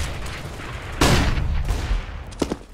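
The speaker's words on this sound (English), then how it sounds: "Throwing a grenade. B बम और Deploying flashbang. Grenade out." A flashbang grenade goes off in a first-person shooter during a live gaming stream, a loud sudden burst followed by a roughly second-long wash of noise that decays into scattered smaller gunfire pops.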